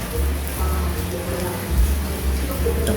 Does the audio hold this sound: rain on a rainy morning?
yes